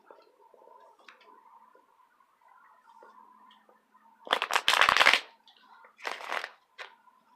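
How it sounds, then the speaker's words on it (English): Tarot cards being shuffled in a few quick riffling bursts, close and crisp, with quiet rustling and handling noises before them. "I'm just going to shuffle a couple times"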